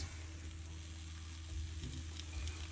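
Egg-coated snack frying in oil in a pan, a steady close sizzle with soft crackling, with no voices.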